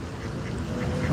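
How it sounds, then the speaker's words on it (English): Geese at a pond honk and call in an agitated, continuous chorus, fairly close, with overlapping squawks over a low outdoor rumble and no clear speech. "Oh wow, geese are acting up here."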